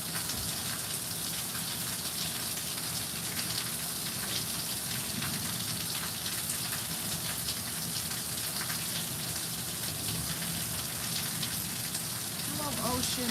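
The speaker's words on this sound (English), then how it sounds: "Yes, more rain, more rain. We've been having rain." Steady rain falls continuously, a dense close hiss of drops on surfaces with no break in intensity, and a voice briefly shows near the end.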